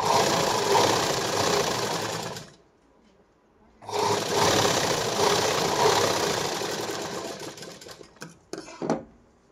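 A sewing machine stitches the lining of a four-tuck blouse, running in a steady loud whir, stopping briefly for about a second, then resuming before ending in short bursts.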